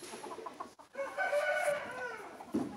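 Chicken being held in the hands, giving a drawn-out cluck and crow-like squawk after soft scuffling, close and fairly quiet.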